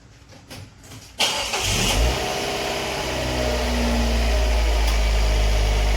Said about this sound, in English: you want to run the car for 10 minutes